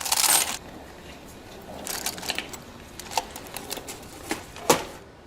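Silver coins clink and jingle in scattered light taps after a brief rustle, fairly close and quiet, with no voices.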